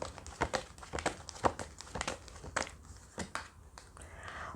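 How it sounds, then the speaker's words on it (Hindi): Tarot cards being drawn and shuffled from a deck give a series of quick, close papery crinkles and snaps in an irregular rhythm, at fairly soft volume. "पहले हम दोनों कार्ड्स निकाल लेंगे।"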